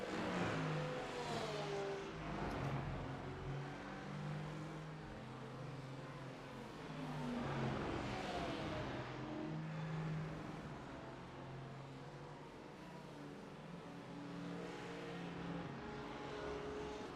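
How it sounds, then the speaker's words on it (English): A Mercedes race car at Sebring, its engine drone rising and falling in long sweeps as it accelerates and shifts, steady and fairly loud for the whole stretch with no voices. "solid driving from Youssef in the Mercedes right now as we head towards 5 minutes to go as he drives down towards Bishop here"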